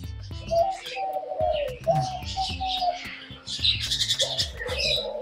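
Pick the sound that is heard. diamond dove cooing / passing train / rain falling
diamond dove cooing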